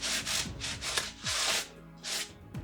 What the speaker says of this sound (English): Just a little bit of sanding down with the sanding block.